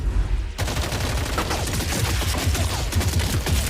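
Rapid bursts of automatic gunfire crackle without pause from an anime monster battle in Kaiju No. 8, the shots starting sharply after a brief moment and then volleying densely and loudly to the end.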